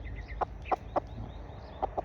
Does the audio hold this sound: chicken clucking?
yes